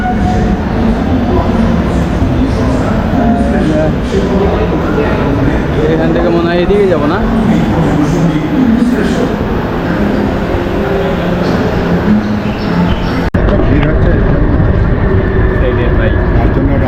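Trains at Dum Dum metro station in Kolkata, a loud, continuous rumble and rolling roar that fills the station, with people talking over it throughout.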